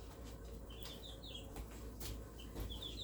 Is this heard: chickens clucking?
yes